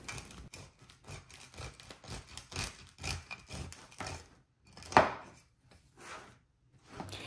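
A knife saws through a freshly baked homemade sourdough loaf made with old flour, giving repeated rough crunchy strokes through the crust in an uneven rhythm, close and moderately loud, with one sharper crackle partway through.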